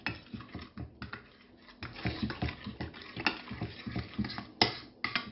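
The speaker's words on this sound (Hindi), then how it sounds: "आप इसको अच्छी तरह मिक्स करें। ये अच्छी तरह मिक्स होना चाहिए।" Russian salad mixed in a bowl with a spoon, a rapid run of light clicking and tapping scrapes in an uneven rhythm, close and fairly loud with no talk.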